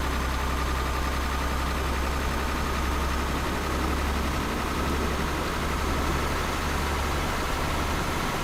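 Steady low drone of a basic beginner-engine Mercedes truck climbing an uphill in Euro Truck Simulator 2, loud and unbroken throughout with no voices.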